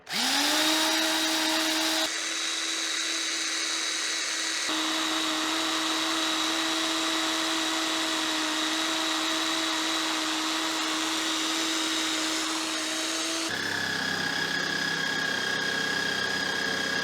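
A really old Black & Decker power tool running on a portable power station, a loud, steady whining motor hum that shifts pitch slightly twice and changes character near the end, with no talking.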